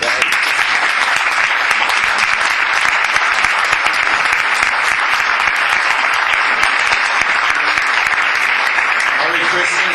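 A club audience of Greek ship owners and shipping community members stands and applauds, dense continuous clapping filling the room loudly and evenly from start to finish.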